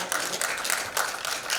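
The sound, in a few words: applause welcoming actress Ekta Jain to the stage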